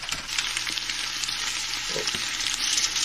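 Peppercorns fry in hot oil in a pot for lobster bisque, giving a dense, continuous close sizzle and crackle with occasional stirring clinks.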